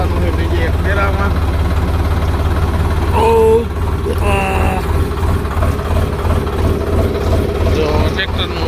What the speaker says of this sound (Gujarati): આવીને કરી દીધું ટ્રેક્ટર ચાલુ